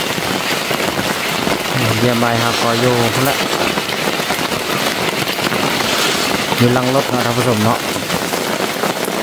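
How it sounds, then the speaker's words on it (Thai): Steady rain patters on a surface outdoors as a continuous close hiss, while someone talks over it in Thai. "ฝนตกเนาะ"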